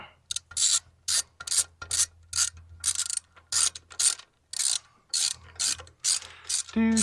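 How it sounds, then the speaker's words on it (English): Hand ratchet driving salvaged bolts into a Poulan lawn mower, a quick series of about a dozen crisp, close clicking bursts with short pauses between them and no talk. "Get my ratchet here."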